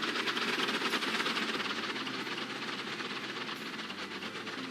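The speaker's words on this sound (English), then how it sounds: "big noisy cargo train" A big cargo train in Transport Fever 2, hauled by Greater Briton locomotives, rumbles steadily and loudly with a dense rolling roar and faint clatter, constant throughout with no voices.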